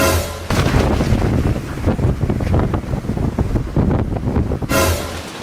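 Strong wind roars and buffets the microphone in a steady, loud rush with gusty surges, continuing almost unbroken through the whole stretch, with no voices.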